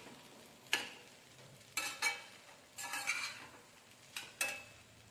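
Kurdai vegetable dish being stir-fried in a pan: a few sharp scrapes and clinks of a spatula at irregular intervals over a faint, steady sizzle, close and fairly quiet.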